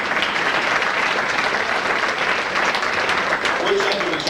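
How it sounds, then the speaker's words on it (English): Banquet guests at a St. Louis auto racing fan club awards dinner applaud trophy presenters, a sustained, steady roar of clapping from a sizable room, with voices mixed in beneath it. "give the ladies a nice round of applause if you will when they come"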